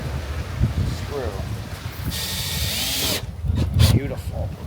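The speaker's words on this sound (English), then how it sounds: "A stainless steel self-tapper every 24 inches." A power drill drives a stainless steel self-tapping screw into a glossy rub rail on a rebuilt Boston Whaler boat, whirring up in a rising burst for about a second amid outdoor noise and faint voices.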